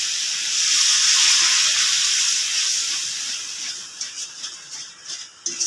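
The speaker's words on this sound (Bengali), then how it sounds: "মশলা থেকে তেল ছেড়ে গেছে, এবার জল দেবো, অল্প দেবো, দিয়ে আর একটু কষিয়ে নেব।" Water poured into frying spice paste for a prawn malai curry raises a loud, broad hiss of steam and sizzle that swells early on, then eases into softer crackling and a few spatters toward the end.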